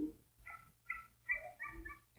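A dog gives a short series of faint, high whimpers and whines, spaced unevenly over a quiet background.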